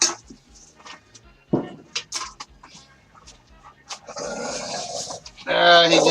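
A dog near an indoor staircase gives short growls and pants close by between bursts of people talking.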